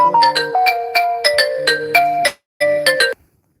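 A mobile phone ringtone plays a bright, bell-like melodic pattern of repeated tones, loud and close, cutting off briefly before one more short burst ends it.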